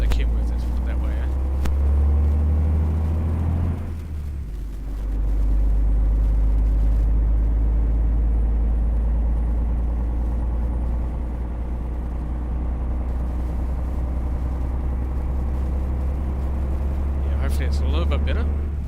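A DAF truck engine in Euro Truck Simulator 2 drones with a constant deep rumble throughout, dipping briefly in loudness early on before settling back in, while people talk over it.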